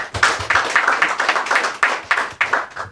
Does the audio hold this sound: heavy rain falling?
no